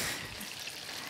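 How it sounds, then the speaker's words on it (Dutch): Cooked green beans and their hot water are poured off into a kitchen sieve, giving a short, soft, continuous splashing and trickling rush heard up close. "Volgens mij zijn de spersieboontjes klaar. Dus die giet ik af."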